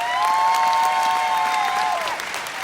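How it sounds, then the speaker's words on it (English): Audience at a business convention breaking into strong applause with some cheering and a sustained whistle-like tone, then tapering slightly toward the end. "So please, a big round of applause to this guy."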